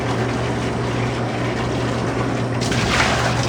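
Seven quarts of room temperature water pour steadily into a container for brewing iced coffee, a loud, continuous close gushing stream that brightens slightly near the end.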